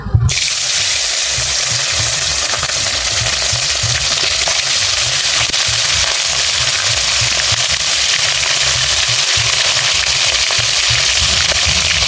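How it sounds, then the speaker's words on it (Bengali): Bhola fish pieces laid one by one into smoking-hot oil set off a loud, dense, crackling sizzle that starts with a sharp burst and then holds steady and close for the whole stretch. "আমি এবার ভোলা মাছ তেলে দিয়ে দিচ্ছি একটা একটা করে।"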